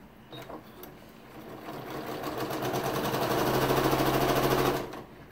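A domestic sewing machine stitches a half log cabin quilt block, its needle running in a steady rapid rhythm that speeds up and grows louder before stopping abruptly, close and alone.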